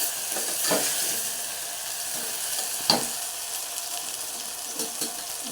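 Turmeric powder and salt hit hot oil in a pan, giving a steady close sizzle of frying with a few brief stirring scrapes and clinks.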